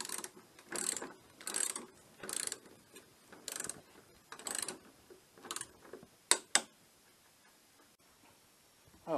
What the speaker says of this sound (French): Et on va serrer le tout à 50 newtons. Alors, la clé, elle est réglée.